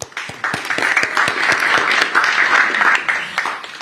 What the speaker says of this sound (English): Can we please give Sandra and Stella a round of applause